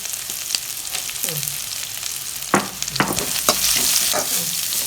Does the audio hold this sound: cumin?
yes